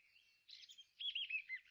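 A little white bird chirps in a bright, fluttering run of tweets that starts faint and grows livelier toward the end, standing alone as a storybook sound effect in a Cinderella tale.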